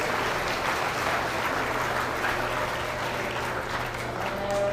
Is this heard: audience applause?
yes